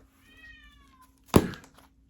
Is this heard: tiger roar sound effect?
no